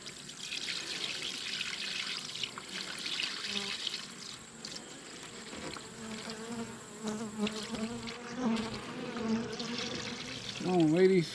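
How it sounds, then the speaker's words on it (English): Sugar water is poured steadily into a beehive amid a constant hum of buzzing bees close by, with a few faint voice sounds near the end. "let's see if we can pour the sugar water in here"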